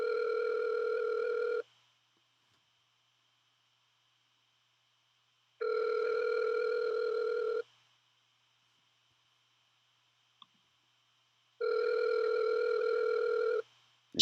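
Three evenly spaced ringback tones of an outgoing telephone call, each lasting about two seconds and separated by roughly four seconds of near silence, clear and steady.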